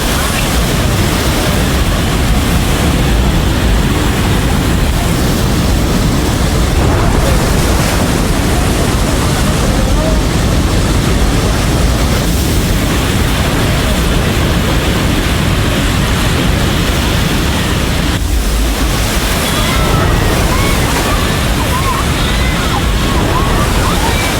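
Flash floodwater at the Nepal-China border roars as a continuous, loud broadband rush, steady and unbroken throughout like heavy surf.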